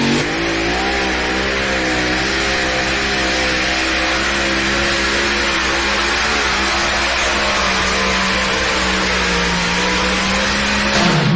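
Modified pulling tractor at a truck and tractor pulling event in Bowling Green, Ohio, engine screaming at high revs with wheels spinning, a loud sustained roar with shifting harmonic pitch lasting the whole stretch, no voices.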